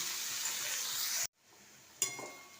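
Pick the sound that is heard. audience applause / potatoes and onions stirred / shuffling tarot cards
potatoes and onions stirred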